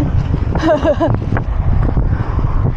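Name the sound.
wind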